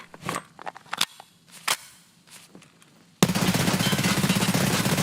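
An automatic gun sprays left to right in a Call of Duty–style shooter game: scattered sharp shots and clicks, then a sudden dense, loud, continuous burst of rapid fire to the end.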